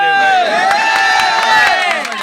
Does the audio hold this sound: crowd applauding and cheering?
yes